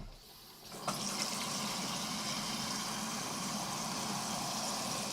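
Water pours or fills steadily into a container, a continuous broadband rush that starts abruptly about a second in and holds at an even level to the end, with no talk over it.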